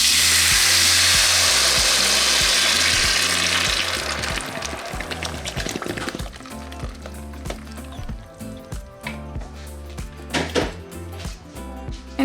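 Salsa goes into a saucepan of hot oil with a loud burst of sizzling hiss that eases after a few seconds into quieter, uneven crackling and bubbling, with no talking.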